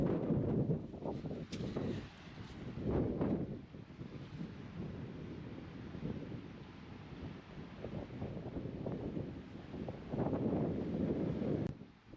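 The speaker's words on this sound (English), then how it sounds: "I know it's very windy." Strong wind buffets the microphone on the Pacific coast beside a camper van, roaring in loud gusts that swell and ease throughout with a steady low rumble, no talking.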